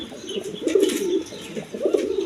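Domestic pigeons give soft, repeated low coos, close by and fairly quiet, with faint background noise.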